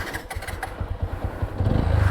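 A TVS Apache RTR 200 4V motorcycle engine runs close by, a steady low idle thrum with a rhythmic beat that builds toward a fuller, louder rumble near the end.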